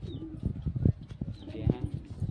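Pigeons coo in a loft, soft repeated low coos close by, mixed with scattered rustles and someone talking over them.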